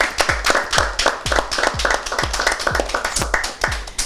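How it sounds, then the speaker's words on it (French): A studio audience at a televised make-up competition applauds a contestant, a dense, loud, rhythmic round of hand clapping that continues steadily throughout. "On applaudit pour elle, s'il vous plaît."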